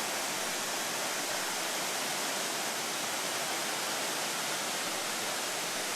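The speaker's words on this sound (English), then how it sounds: "Very nice falls." A waterfall on a bush track in Tasmania keeps up a steady, dense hiss of falling water, loud and unbroken, with nothing else audible above it.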